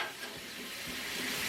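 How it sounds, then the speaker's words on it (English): Shrimp sizzle on a hot Blackstone griddle as part of a fried rice cook, giving a steady, close, fairly quiet hiss that runs without a break and without talk. "So let's cook up our shrimp"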